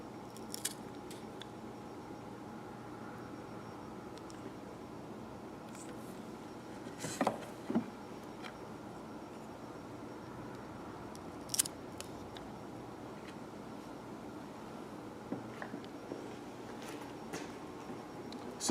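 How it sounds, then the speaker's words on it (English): Fuse cutters snip firework fuses at an angle in a few scattered, short, crisp clicks against a quiet, steady background hiss, with no talking. "take your fuse cutters and take at about a 30-degree angle, if you can do that, and trim the fuse and expose fresh powder."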